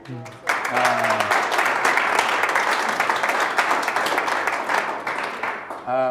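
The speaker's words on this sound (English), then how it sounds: "So we applaud you for that." Applause from a live-stream audience breaks out after a brief voice, a continuous wash of clapping that holds steady and then tapers as a voice returns at the very end.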